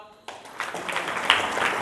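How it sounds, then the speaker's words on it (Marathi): A crowd at a Mahanubhav satsang gathering bursts into clapping after a short quiet moment, building to a steady, dense patter of many hands with voices mixed in. "तुम्ही सर्वांनी टाळ्या वाजवा"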